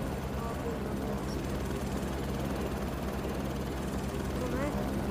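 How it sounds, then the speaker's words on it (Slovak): Helicopter in the Roblox video game lifting off at night, a steady rotor and engine drone that stays loud and constant throughout, with a person talking over it. "A tu má zlietnúť. Vidíte? Helikopter."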